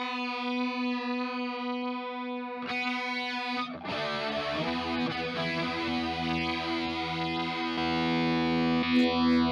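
Electric guitar run through a Lekato Cube Baby multi-effects unit with modulation on, a held distorted note giving way to wavering chorus-like strummed chords that warble and ring out, loud and alone.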